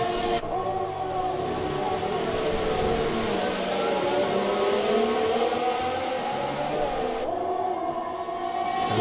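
Formula 1 cars in a racing game at Bahrain scream past with high, whining engine tones that sweep in pitch, a continuous loud drone of several cars close together.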